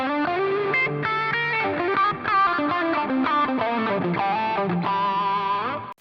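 Electric guitar through a Bluesbreaker-style overdrive pedal on high gain plays a melodic lead line with sustained, overdriven notes and chorus-like shimmer, loud and continuous without any talking.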